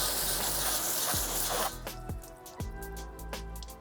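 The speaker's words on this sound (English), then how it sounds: "Do a one spray and then just wipe down the whole wheel" Detailing spray hisses onto a car wheel for about a second and a half, followed by a few soft wet squishes and wiping sounds up close.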